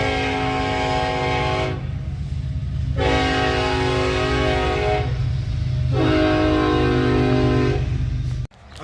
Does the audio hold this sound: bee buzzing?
no